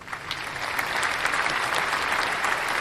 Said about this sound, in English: And so I'm just going to give Christy a round of applause.